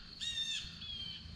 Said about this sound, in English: That's a pigeon.